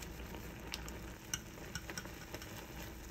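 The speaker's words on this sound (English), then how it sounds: "After 3 minutes, I drop the ingredient packs and stir vigorously." A pot of Shin Black spicy ramen noodle soup is stirred vigorously, a quiet bubbling sizzle broken by soft scraping and clinking taps of the utensil against the pot.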